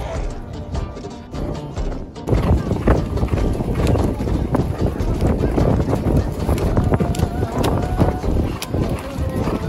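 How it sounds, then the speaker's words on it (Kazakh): A herd of some eighty to ninety horses gallops in a kokpar game on a mountain pasture, dense overlapping hoofbeats thudding loud and close after a quieter start, with people talking over the din. "Әлі шауып біледі, әлі шауып біледі. 80-90 ат."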